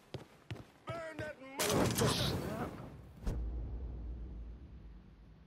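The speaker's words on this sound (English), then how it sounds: "A lot of gunshots going on out there." A voice talks briefly, then rapid gunfire in the video game Mafia 3 crackles in a dense volley before settling into a lower rumble.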